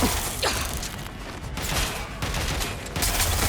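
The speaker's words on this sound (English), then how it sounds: "Gunfire!" Gunfire rattles in Watch Dogs: Legion, with several sharp shots and bursts close by across a few seconds, set among a busy game background.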